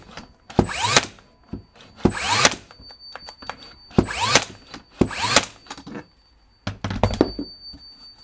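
A Bosch 16 gauge cordless brad nailer fires 64 mm nails into pine, making six sharp, loud, separate bangs spaced about a second apart, each with a short ringing tail.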